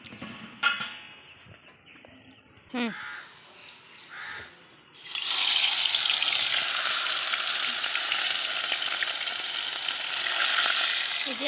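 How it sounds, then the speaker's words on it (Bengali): Fish frying in oil in a kadai on a wood-fired clay stove, opening with a few scrapes and distant crow caws, then a loud continuous sizzle that holds steady to the end. "মাছ ভাজা হচ্ছে।"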